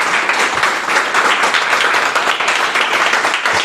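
A church congregation gives a loud, vigorous round of applause to close a service. The clapping is dense and unbroken, filling the room evenly from start to finish.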